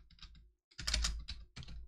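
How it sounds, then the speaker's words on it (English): Fast typing on a computer keyboard, close and fairly quiet, in a few short bursts of clicky keystrokes separated by brief pauses. "at the end we can just type in bye."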